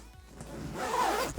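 A zipper being pulled open on a Line 6 Helix guitar effects bag, a single continuous rasping zip lasting about a second, close and clear with no talking.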